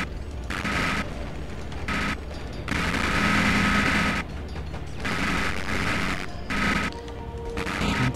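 Sustained bursts of automatic gunfire from a gun-arm weapon in the Robocop video game, loud, rapid rattling volleys separated by brief pauses, no talking over it.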